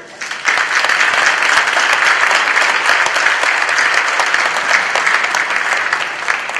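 A large audience at a Veterans Day ceremony breaks into loud, sustained applause, steady dense clapping that fills the whole stretch without easing.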